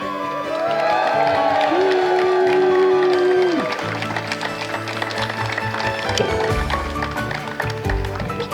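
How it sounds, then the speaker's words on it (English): A crowd applauds and cheers at an outdoor sign unveiling for an arboretum and gardens opening, loud dense clapping with raised voices and whoops rising at first, then sustained steady applause. "Let's get another round of applause for this sign, everybody."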